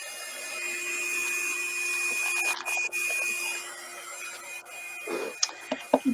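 A handheld heat tool drying a wet art journal page, giving a steady, loud, close whine that runs for about five seconds and then cuts off, followed by a few soft handling knocks.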